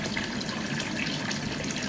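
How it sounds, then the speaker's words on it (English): Water from a fish pond poured over potted plants, heard as a steady, close, unbroken splashing rush that lasts the whole clip with no talking. "And now I water all these plants from the fish pond."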